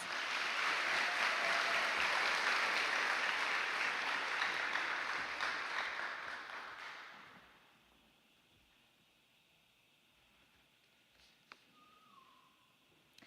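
Audience applause for a student headed to Midland University powerlifting, at a Cotulla High School NHS induction and hooding ceremony; dense, loud clapping fills the first seven seconds, then fades to a quiet room with a faint whistle-like tone.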